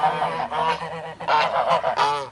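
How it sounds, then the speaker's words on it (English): Geese honking on a farm pond at evening, several birds calling loud and close in overlapping bursts with short gaps between them. "looks like the geese are heading back"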